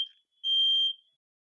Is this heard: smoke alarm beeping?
yes